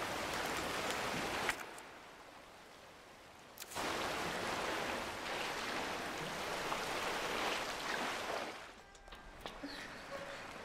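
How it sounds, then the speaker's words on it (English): Rushing water from a waterfall in Resident Evil 2 fills the scene as a steady, hissing broadband roar, briefly dipping and returning, fading out near the end, faint overall and without talk. "Over by this waterfall of shit."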